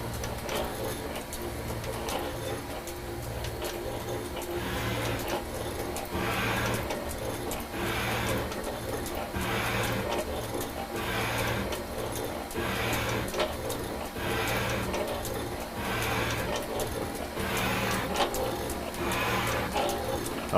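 Powered machine table traversing toward the operator, giving a steady mechanical drone with a regular rhythmic clicking pulse roughly every second, moderately loud and continuous without speech.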